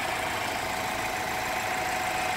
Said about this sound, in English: Get a little noise from that little engine.